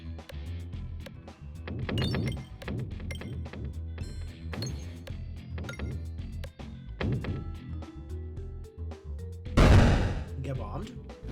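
Bombs exploding in the video game Peglin: a run of repeated thumps and clinking game effects, ending in one loud burst of explosion.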